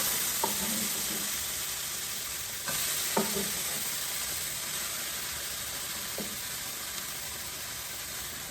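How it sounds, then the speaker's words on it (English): Tomato added to zucchini frying in a pan, a steady close sizzle with a few soft stirring knocks and clatters spread through it. "Let's go ahead and add our tomato in."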